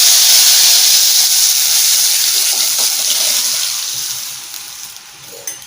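Liquid is poured onto fried ingredients in a hot pan over a low flame while a cough and fever remedy is being made. A loud, close hiss and sizzle slowly fades.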